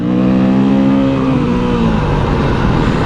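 Close, loud revving from a dirt bike engine on a Pakistani trail, holding a strained high pitch before the revs drop away into a rougher, lower idle-like rumble.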